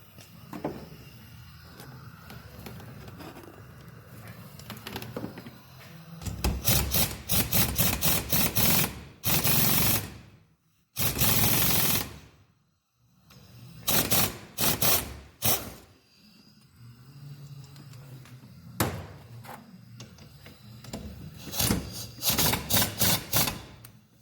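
Metallic clicking and ratcheting as parts of a Jupiter motorcycle engine are unscrewed, coming in rapid runs of ticks broken by short pauses, fairly close and with no speech.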